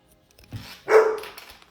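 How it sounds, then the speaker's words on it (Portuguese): A single dog bark rings out nearby, preceded by a soft low thump, then fades into quiet. "ele tá ali latindo pra mim"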